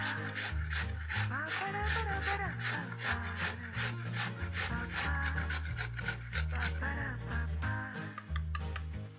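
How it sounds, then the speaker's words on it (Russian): A peeled carrot is rubbed on a coarse grater in quick, rhythmic scraping strokes that continue for several seconds. The grating runs over a steady musical backing, with no speech. "Одну морковь очищаем. И и натираем на крупной терке."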